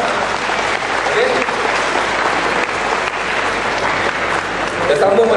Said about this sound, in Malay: mari bagi tepukan yang gemuruh kepada YB Charles